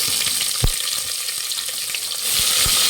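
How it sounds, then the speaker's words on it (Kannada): Lengthwise-sliced onions fry in a pan for akki usli, a close, steady hiss of sizzling oil with a few soft knocks and stirring scrapes, the sizzle briefly brightening toward the end, no one talking. "ಫ್ರೈ ಮಾಡಿ ಈರುಳ್ಳಿನ"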